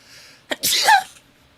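A single sharp sneeze, close and loud, with a quick intake of breath before the explosive burst, then quiet.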